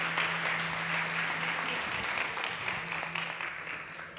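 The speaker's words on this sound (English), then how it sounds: "Round of applause for Rui" Audience applause for a startup presenter at the South Summit 2021 startup competition, a dense, steady wash of many hands clapping that stays loud through the clip, with a faint tone underneath.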